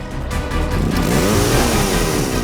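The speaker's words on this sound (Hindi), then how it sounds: "बाइक खुद बोल रही है, ये वही बाइक थी।" A motorcycle engine runs loud and close with a throaty, steady roar that builds slightly as it revs, with no speech over it.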